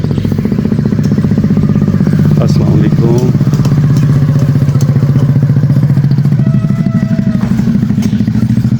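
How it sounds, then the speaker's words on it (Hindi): A motorcycle rickshaw engine chugs steadily close by for the whole stretch, its rattling putter loud and continuous, with a brief spoken greeting over it, on a village road in cool weather. "भाई मोटरसाइकिल रिक्शा लेके आ रहा है।"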